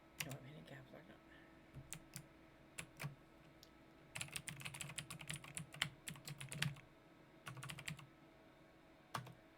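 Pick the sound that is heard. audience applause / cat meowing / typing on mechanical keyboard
typing on mechanical keyboard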